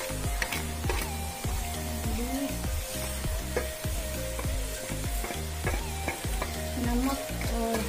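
Fish fries in a pan with a continuous crackling sizzle, punctuated by regular clacking taps of a utensil stirring and scraping, close and moderately loud.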